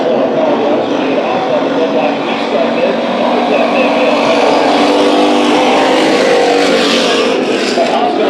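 Hobby stock race cars run a heat at Bakersfield Speedway, engines roaring loudly and continuously as the pack laps the track, with an announcer talking over the noise.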